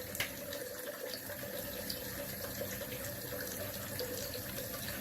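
Tap water runs steadily into a bathroom sink while a face is wetted before a traditional wet shave, a continuous close hiss and splash with no talking.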